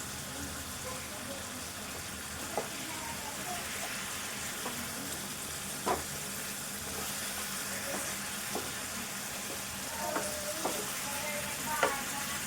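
Chicken masala sizzles in a frying pan while a spoon stirs it, a steady frying hiss with scattered scraping clicks throughout, close and moderately quiet.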